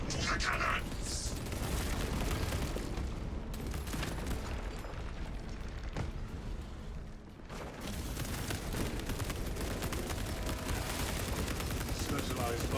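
Dense video game battlefield din of heavy booming cannon shots and rattling heavy bolter gunfire, sustained and loud, with a brief dip midway before the barrage resumes.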